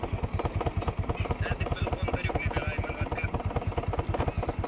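A Honda Activa scooter idles nearby with a rapid, steady putter of evenly spaced engine pulses that runs unbroken throughout.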